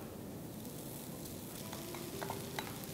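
Crumbled paneer frying in a pan with onions, turmeric, red chili powder and garam masala, giving a soft, steady sizzle with faint scraping and stirring ticks near the end.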